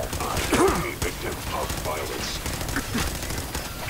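Gunfire from a paladin in Fallout 4, a few short bursts and shots over continuous game sound, moderately loud and close, with a voice talking over it at times.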